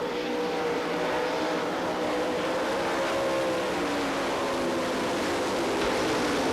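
Sprint cars roar wheel to wheel down the back straight and into turn three at the Knoxville Nationals, a dense, steady engine drone with rising and falling pitch from several cars passing at once, heard from a distance.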